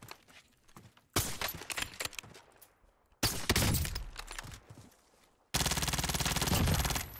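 Gunshots in a sniper-focused video game arrive as a few sharp, loud blasts, each followed by a decaying echo, separated by quieter stretches with faint movement sounds.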